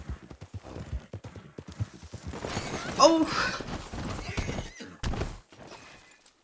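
Horse in the Red Dead Online video game galloping with clip-clop hooves and letting out a neigh midway, while someone talks and exclaims over it.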